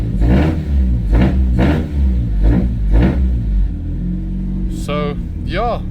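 A big-turbo Audi A4 B7 with newly fitted drive-by-wire throttle revs hard in about five loud, evenly spaced bursts, with high whistling sweeps near the end over a steady rumbling idle.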